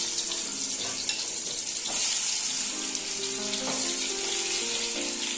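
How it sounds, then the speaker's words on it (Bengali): Pointed gourd (potol) pieces dropped into hot oil, giving a loud, continuous bright sizzle that swells slightly as they settle and keeps crackling steadily. "এবার আমি পটলগুলো দিয়ে দিচ্ছি।"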